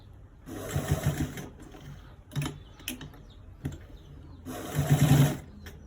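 A sewing machine stitches fabric for a V-neck design joining two different fabrics. It runs in three loud bursts of rapid whirring, separated by short pauses with a few isolated clicks, close up.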